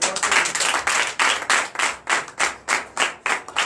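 A church congregation at a Sunday service in Comè, Benin claps loudly in a steady, even rhythm, each beat landing as a sharp burst with no voices.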